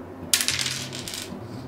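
Dice clatter on a backgammon board: a sharp initial strike followed by a quick flurry of bouncing, rattling clicks that fade over about a second, close and alone.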